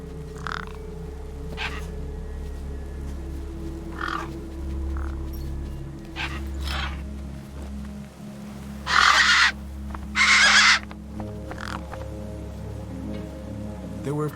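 Gang birds in the video game Beyond a Steel Sky caw over a corpse propped against a rock, several short harsh calls scattered over a steady low ambient hum, with two louder, longer bursts near the end.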